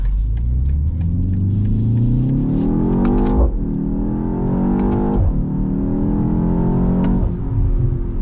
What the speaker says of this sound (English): that B48 underneath the hood is fantastic